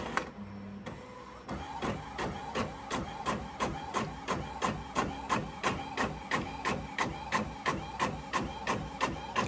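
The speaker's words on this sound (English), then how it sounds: "I'm sending this to my Epson Workforce 7710." An Epson Workforce 7710 inkjet printer feeds and prints on sublimation paper, its print head shuttling in a steady, evenly spaced series of mechanical strokes after a short startup whir, close and clear with no talking.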